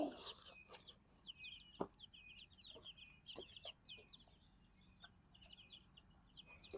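Chickens cluck softly and intermittently while being fed sprouted lentils in a quiet outdoor setting, with a few scattered clicks and knocks.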